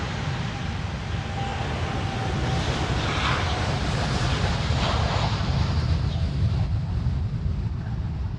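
A Thai Airways airliner departs Amsterdam Schiphol on a windy day, its jet roar a steady broadband rumble throughout, heavy wind buffeting the microphone, with a faint whine early on.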